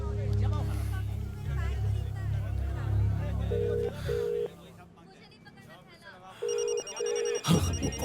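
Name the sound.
mobile phone ringing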